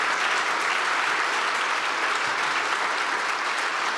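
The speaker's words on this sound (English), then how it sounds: "Give it an applause" An audience at a Hamburger Bahnhof literary event claps in sustained, even applause, dense and full from start to finish, with no talking over it.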